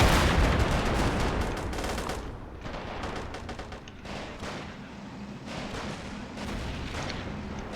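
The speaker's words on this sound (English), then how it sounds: "Well-placed grenade." Dense gunfire and explosions from a World War II strategy game battle, a heavy blast at the start followed by continuous rattling volleys and thuds.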